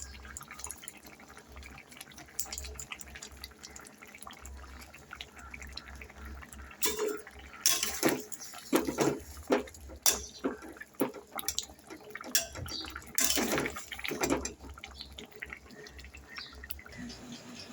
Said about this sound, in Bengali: এখন আমি এই ঝোলটাকে একটু ফুটতে দেবো, 5 মিনিট মতো ঝোলটা ফুটবে।